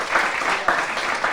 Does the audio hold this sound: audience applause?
yes